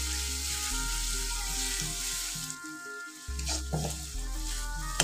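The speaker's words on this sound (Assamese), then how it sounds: "গুচি যোৱালৈকে এইখিনি মই ভাজি ল'ম" Ingredients for a potato gravy fry in a pan, a close, steady sizzle with stirring scrapes, briefly dipping quieter midway before resuming.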